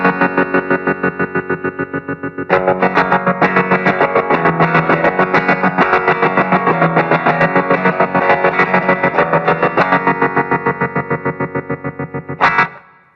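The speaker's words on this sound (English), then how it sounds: "It's that classy choppy tremolo." Electric guitar played through a Flamma FC05 multi-modulation pedal set to a choppy stutter tremolo, chords chopped into a fast, even on-off pulse with distortion and reverb, loud and alone with no talk.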